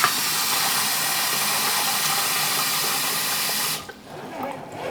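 Water pours steadily into a canner pot holding jars of home-canned chicken, a constant rushing splash that cuts off sharply near the end and leaves a quieter trickle behind.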